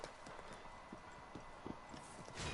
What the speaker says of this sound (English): What is my horse doing?